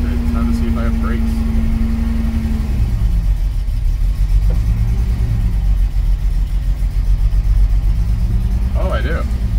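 A 1978 Datsun 280Z engine runs and drives after sitting for 30 years, a loud, close mid-range rumble with shifting pitch as it idles and accelerates, with a person talking over it.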